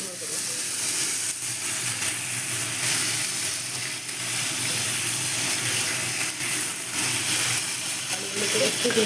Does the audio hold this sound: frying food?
yes